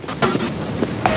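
Thrown molotov burning in Counter-Strike: Global Offensive, a short close crackling hiss of flames with a few soft pops, brief and steady.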